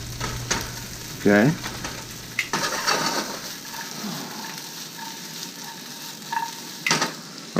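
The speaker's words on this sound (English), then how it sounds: "now you're going to want to saute these on a high heat and caramelize them up" Sliced red peppers sautéing on high heat in a pan, a steady close sizzle broken by stirring scrapes and clatter, with a brief spoken word.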